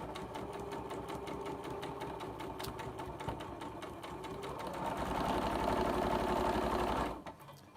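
A sewing machine runs a continuous stitching burst while piecing a quilt block, speeding up and growing louder toward the end before stopping abruptly, with no talking over it.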